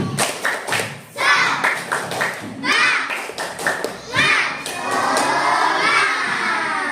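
Schoolchildren in a classroom clapping a rhythmic spirit clap, with bursts of sharp hand claps mixed with shouting young voices and a crowded, lively sound.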